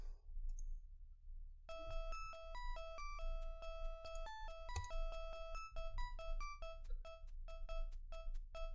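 Electronic phone ringtone in the spy video game Spycraft: The Great Game, a repeating pattern of bright melodic beeps stepping up and down in pitch over a low hum, with soft clicks at the start.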